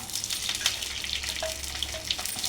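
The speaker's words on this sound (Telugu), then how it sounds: "ఆయిల్ వేసేసి గ్రీన్ చిల్లీ మొత్తము వేయించేసుకోవాలి పచ్చడిలోకి" Green chillies fry in oil in a kadai for chutney, a close crackling sizzle with scattered pops and spits over a low steady hiss, no talk.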